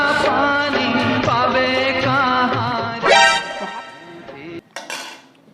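A wok and metal pots clatter and scrape in a kitchen, with a steady run of ringing knocks and then a louder bang of stacked vessels before a final sharp clank, no voices over it.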